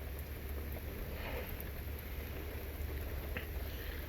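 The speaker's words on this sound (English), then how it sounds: "it's raining, so that's a good thing" Steady rain falls outdoors on a lawn, a continuous even hiss with no breaks, moderately loud and close, with no talking.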